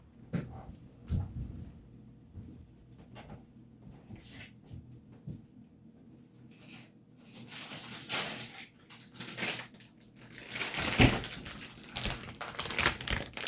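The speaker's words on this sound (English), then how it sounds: "Right there's my bag of lemons." A plastic bag holding about ten lemons is handled close by, giving bursts of crinkling and rustling that grow busier and louder toward the end, with quieter gaps between them.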